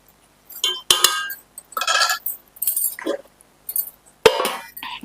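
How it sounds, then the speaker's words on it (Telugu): Metal and glass clink in short separate bursts as a lid is set on a cooking pot of vegetable stew, a handful of bright knocks with quiet gaps between them. "టూ మినిట్స్ మూత పెడదామండి"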